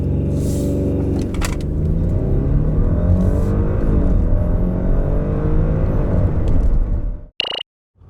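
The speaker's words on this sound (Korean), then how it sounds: "자, 그렇다면 이번에는 아우디 A8의 가속 성능에 대해서 알아볼까요?" A 2020 Audi A8 L 55 TFSI quattro accelerates hard, its engine note rising in steady pitch sweeps through several gear changes as loud, close cabin rumble builds, then cuts off abruptly near the end.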